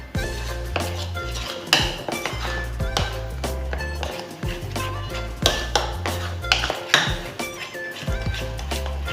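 An egg is beaten in a bowl with a utensil, giving a series of quick clinking and tapping strikes in irregular bursts, close, over background music.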